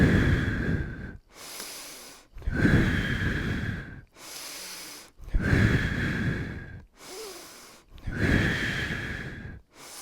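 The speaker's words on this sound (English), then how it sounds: "I inhale up and exhale back around." Steady rhythmic breathing during a mobility exercise, with five slow, breathy inhale-exhale cycles close to the mic, each ending in a short pause, with no talking.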